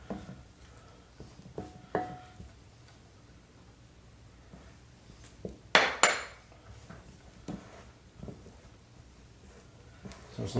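Banana blueberry bread batter being mixed with a spoon in a bowl for a rice cooker bake: scattered clinks and scrapes against the bowl, with a louder clatter midway, close and otherwise quiet.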